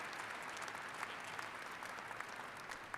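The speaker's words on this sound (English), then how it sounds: "Let's give them a round of applause." A commencement ceremony crowd in a large hall claps steadily, an even wash of applause heard from a distance and fairly faint, with no talking over it.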